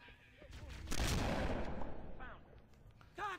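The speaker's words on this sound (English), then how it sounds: "who the fuck's shooting that?" A sudden, loud burst of gunfire in a cursed mod of the video game Halo CE erupts about a second in and crackles on before tailing off, while people talk briefly afterward.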